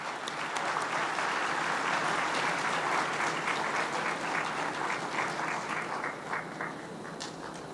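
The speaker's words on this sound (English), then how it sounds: "Shall we continue to give the Honorable Premier a big round of applause?" A large audience claps for the provincial Premier at a KwaZulu-Natal matric results announcement, a dense sustained round of applause that holds strong before gradually tapering, heard from within the crowd.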